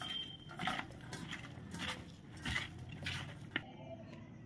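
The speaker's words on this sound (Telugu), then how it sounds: "ఉల్లిపాయల్లోంచి వాటర్ వచ్చేలా కలుపుకోవాలి" Chopped onions are mixed by hand with chilli powder and spices for pakoda, making faint, irregular wet squishing and squelching sounds close up in a quiet kitchen.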